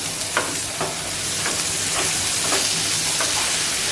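Ivy gourd with garlic and dried red chilli being stirred in a pan: a continuous close sizzle with regular spatula scrapes roughly every half second.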